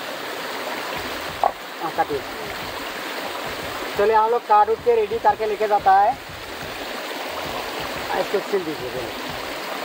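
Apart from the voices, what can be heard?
mountain waterfall stream flowing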